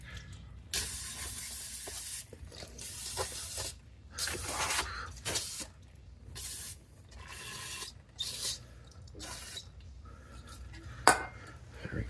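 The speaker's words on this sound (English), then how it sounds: "then we'll take it, spray it down with some parts cleaner" Parts cleaner sprayed onto an outer tie rod from a Mitsubishi RVR / Outlander Sport, several hissing bursts of aerosol separated by pauses, with rubbing and metallic handling noises in between; no talking.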